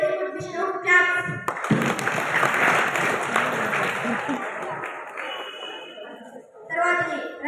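A classroom of boys at a school skit claps for a student in a short, loud burst of applause. Children's voices are heard just before and after it.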